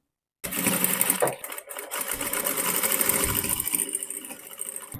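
A sewing machine stitches an invisible zip into a blouse, starting after a moment of silence and running in a steady close whir with a brief slowdown early on, with no voices.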